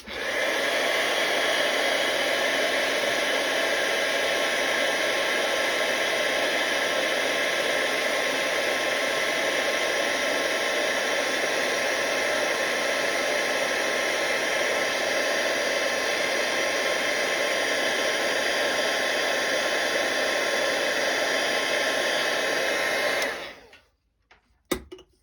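A heat embossing tool blows hot air over a handmade card in one loud, steady whoosh that runs unbroken for more than twenty seconds, then cuts off abruptly near the end.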